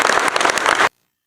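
Loud, dense applause rings through a hall at a lawyers' convention in Islamabad. It cuts off abruptly into silence, then briefly starts again at the end.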